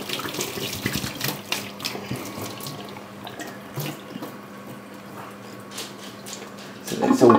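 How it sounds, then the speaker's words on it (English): Boiling water poured out of a container into a sink, a steady close splashing stream with some gurgles and a louder rush at the end, someone talking under it. "all you want to do with this is pour out the boiling water."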